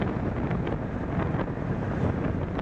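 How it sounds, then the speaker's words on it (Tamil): Cold wind blowing after rain on a ride out near the Poonamallee toll, a steady loud rushing buffet with a low rumble throughout, no voices. "அந்த குளிர் காற்று தான் அடிக்குது"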